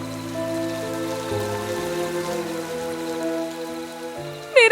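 Heavy rain pouring steadily with strong wind, a dense, continuous wash of sound beneath tonal musical layers, loud and unbroken throughout.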